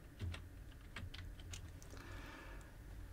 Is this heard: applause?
no